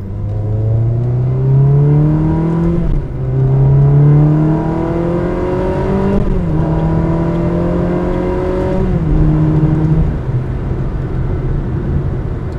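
Car engine revving repeatedly, each rev climbing in pitch and then dropping before rising again in a steady pattern of about four pulls, loud and close with no talking.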